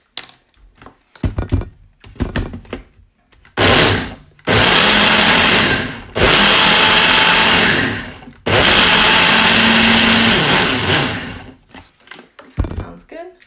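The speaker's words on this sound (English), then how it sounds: "I use a Ninja blender." A Ninja blender with its to-go cup blends a chocolate raspberry smoothie in three loud, sustained bursts of whirring motor and churning, with short pauses between them, after a few clicks and handling sounds and brief soft talk.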